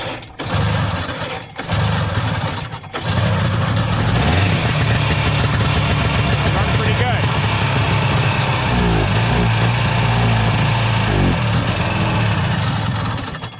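A vintage Ski-Doo TNT snowmobile engine runs on its own, starting with a few sputtering, choked catches and cutoffs before it settles into a steady, loud, buzzing idle close by.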